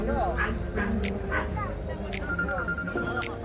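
Dog yips and short barks come through a noisy, crowded dog show at Hassan Science College Ground, with constant chatter and commotion around them.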